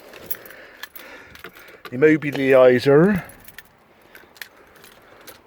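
Keys for a 1993 Range Rover Classic jangle in short metallic rattles, close and intermittent, while someone speaks briefly in the middle.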